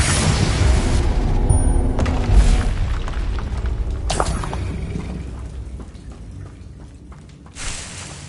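Spell blasts in Hogwarts Legacy go off as a loud, heavy booming explosion with a rumbling, crackling tail. A second burst hits near the end.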